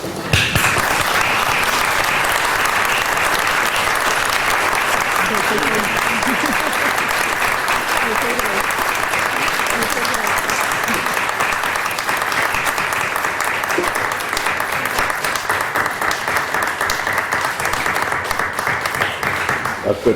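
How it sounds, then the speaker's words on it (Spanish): A large audience applauds steadily after a literary reading, the clapping sustained and dense for about twenty seconds, with faint voices murmuring underneath. "Las personas de la secta pueden seguir aplaudiendo."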